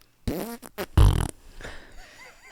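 A loud, close fart blurts out in a low rumbling burst, quickly followed by a second, stronger and longer one, then faint room sound.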